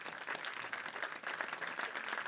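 A church congregation applauds its volunteers with sustained, even clapping from many hands, moderately distant and filling the room throughout with no voices on top.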